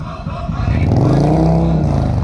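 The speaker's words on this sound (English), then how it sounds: "Bikes driving by, revving up their engines." Motorcycles pass nearby with a rising engine drone that swells and revs up, loud and rough, with a faint voice underneath.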